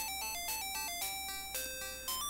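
Chiptune video game music from a dreamGEAR 75-in-1 plug-and-play console plays as a quick run of bright, beeping synth notes in a bouncy melody, steady and alone.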